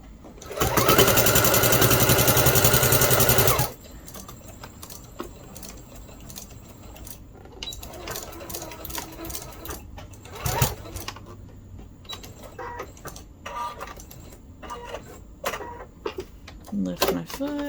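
A sewing machine quilting a fat quarter quilt runs in a loud, fast mechanical whir for a few seconds, then stops. A person talks quietly over small handling clicks and rustles.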